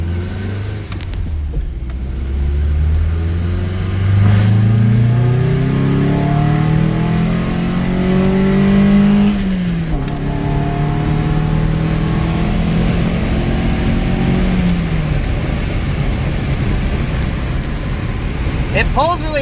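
A Nissan 240SX with a cat delete and an aftermarket exhaust header revs up and comes back down several times, with the engine pitch rising and falling. The exhaust is loud and close and holds a steady idle drone between the revs.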